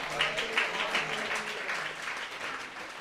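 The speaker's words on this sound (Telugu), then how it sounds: "కొట్ట చప్పట్లో" An audience at a church sermon breaks into clapping, a dense patter of many hands heard at moderate distance, steady for a few seconds.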